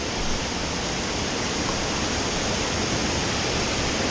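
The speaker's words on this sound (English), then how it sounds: "Hope y'all can hear me with the water rushing." Water of the Haw River in North Carolina rushes in a steady, loud, unbroken roar, close by and with no other sounds over it.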